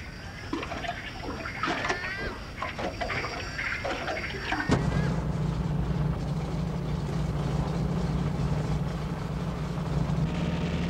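A Beaver aircraft built in the 1960s in flight over the Kimberley wilderness of Australia: mixed sounds at first, then a loud, steady engine drone that fills the rest of the clip.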